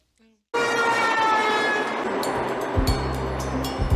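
A subway train in a film scene roars in suddenly and stays loud and steady, with rumbling wheels on rails and a few sharp metallic clanks near the end.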